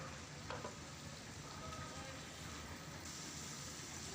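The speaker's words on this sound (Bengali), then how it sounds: "এবার ঢাকনা তুলে আমি কিছুটা পরিমাণে সয়াবিনকে যে সেদ্ধ করে রেখেছিলাম সেটা মিশিয়ে দেব।" Sizzling and stirring in a pan as boiled soybean is mixed into cooking cabbage, a steady close hiss with small scraping bursts, while a voice talks over it.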